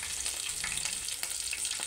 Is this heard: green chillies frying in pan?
yes